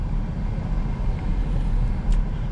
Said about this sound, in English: This car constantly makes that noise. It's the air conditioning.